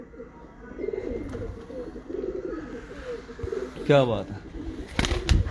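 Ababil breed pigeons coo in steady rolling phrases close to the microphone, with a brief burst of wing flapping near the end and a voice speaking over them.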